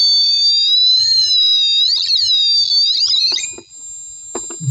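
A kit-built electronic theremin sounds a steady, fairly loud whistling tone that wavers and bends in pitch, with brief glides and light fumbling noises near the end.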